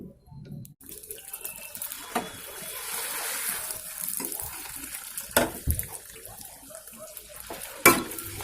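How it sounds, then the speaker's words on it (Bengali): Fuchka puris are deep-fried in hot oil, giving a steady bubbling, watery hiss with a few sharp splashy spikes as pieces are moved, close and moderately loud, with no talking. "এইভাবে আমি বাকি সব ফুচকাগুলোকেও ভেজে নেবো"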